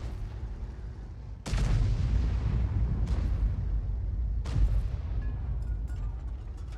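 Heavy artillery booms in a video game, three big blasts roughly 1.5 seconds apart over a steady low rumble of battlefield noise, with faint crackling distant fire after the last shot.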